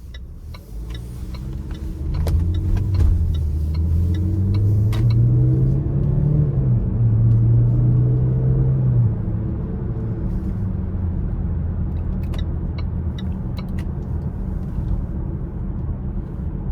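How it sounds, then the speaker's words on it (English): A 2020 Land Rover Range Rover Velar R-Dynamic S with a 2-liter turbo engine drives on the road, its steady low engine rumble heard from inside the cabin. The engine note rises and sways under acceleration, then settles into an even cruise. "take this 2020 Land Rover Range Rover Velar out on the road for a quick test drive"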